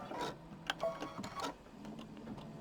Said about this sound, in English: And then it's going to do the quilting.